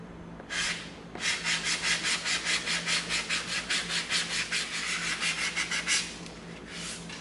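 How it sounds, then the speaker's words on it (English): A 220 grit sanding stick rubs along the edge of EVA foam in quick, even back-and-forth strokes, a close, rhythmic scratchy rasp running steadily for several seconds after a brief first pass. "we're gonna come in with our 220 sanding stick and we're gonna come up along this edge right here"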